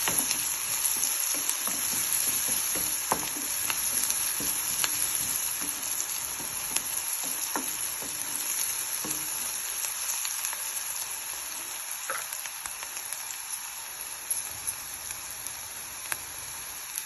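Cluster beans fry in a pan with cashews and turmeric, a continuous close sizzle broken by scattered clicks and scrapes of stirring, with no talk.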